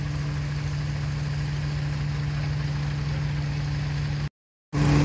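A loaded farm tractor engine runs steadily at close range with a low, continuous droning hum, cutting out briefly near the end before resuming.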